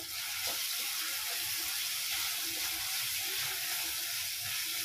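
Tomatoes frying in a pan with a little salt for a vegetarian chhena tadka, giving a steady, close, even sizzle that hisses on without a break and carries no talking.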